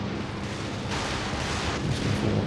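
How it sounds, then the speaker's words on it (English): A dense, continuous rumble of explosions rolls on with low booming surges during a Stuka dive bomber barrage in Company of Heroes 2, loud and sustained with no clear gaps. "Stuka barrage"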